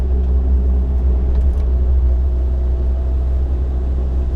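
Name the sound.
Suzuki SJ 4x4 engine driving in third gear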